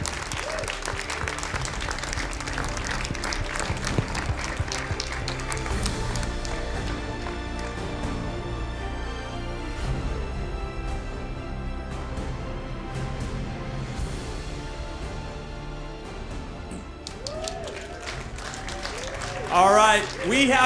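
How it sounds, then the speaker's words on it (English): A crowd at a FIFA 17 Ultimate Team Championship Series regional final in Paris claps and cheers continuously for the champion, dense sustained applause with crowd noise and some talking underneath. "Let's have a round of applause for our champion."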